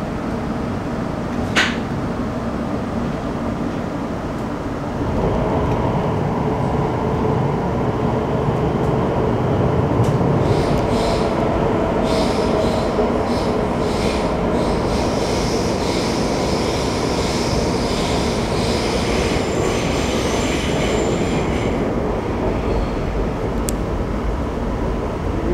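Elizabeth Line train riding out of Heathrow in London, a steady loud broadband rumble of wheels and motors inside the carriage throughout, with faint brief rattles and a chime-like tone near the start.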